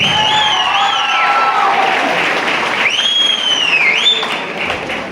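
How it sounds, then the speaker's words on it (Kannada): Loud, continuous clapping from a college audience at a law college student event. The applause holds steady throughout with some cheering and whistling mixed in. "ಇನ್ನು ಇಂದ ಕೆಲಸ ಮಾಡಿದಂತಹ ಅಷ್ಟೂ ಜನರಿಗೆ ಒಂದು ಜೋರಾದ ಚಪ್ಪಾಳೆ"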